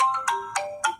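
A phone's ringtone plays three bright, evenly spaced electronic chimes, close and clear, over a quiet background.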